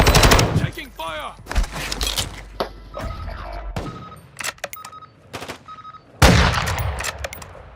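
Gunfire in a first-person squad shooter game, bursts of automatic fire and sharp single shots with sudden thumps and ringing gaps, loud and close, with muffled voice chat in between.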